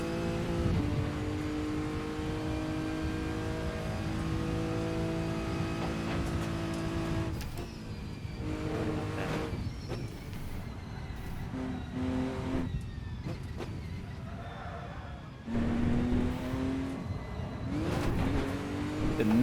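A Ferrari race car engine in a racing video game revs and climbs through the gears, loud and close, with pitch dropping on shifts and braking and a brief tire squeal.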